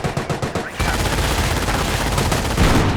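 Gunfire rattles in a Company of Heroes battle: quick bursts of shots at first, then a sustained, dense barrage of machine-gun fire and explosions that continues to the end.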